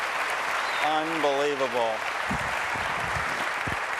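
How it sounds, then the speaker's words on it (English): A large audience claps loudly in a dense, continuous roar of applause while someone speaks briefly over it. "You're applauding so loudly you confused me."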